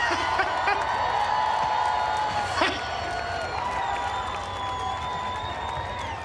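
Grandstand crowd at a Lucas Oil Late Model dirt track race, the 44th Annual North/South 100, cheers, whoops and applauds the winner, a sustained loud roar with one sharper peak, fading slightly toward the end.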